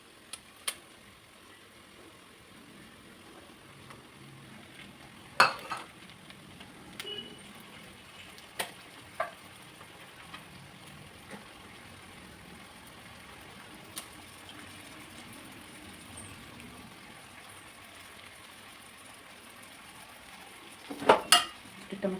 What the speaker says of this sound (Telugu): నెక్స్ట్ టమాటా ప్యూరీ వేస్తున్నానండి.